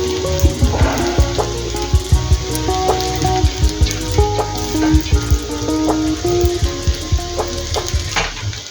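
Rice fries in oil in a pot for chicken biryani, a loud, close sizzling hiss with bursts of crackle and frequent clinks and scrapes of a spoon stirring against metal.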